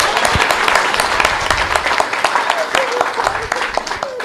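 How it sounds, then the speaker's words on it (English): An audience at an East African youth agri-food trade fair and expo claps for a speaker, a loud busy patter of many hands with scattered sharper claps and some voices mixed in. "Ebu clap for me."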